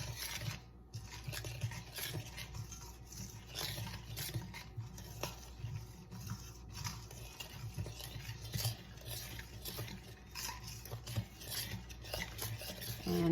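Spoon scraping and stirring flour into a soupy, lumpy English muffin bread batter in a bowl, with repeated soft scratching strokes close by and quiet, no talking.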